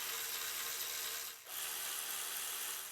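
A ratchet snugs down the upper intake manifold plenum bolts on a 2011-2019 Ford Explorer, giving a steady, close clicking that continues with one brief pause.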